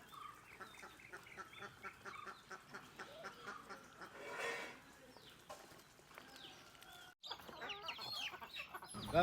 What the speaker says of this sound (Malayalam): ഇനി നമ്മുടെ നാടൻ കോഴികളെ കാണാം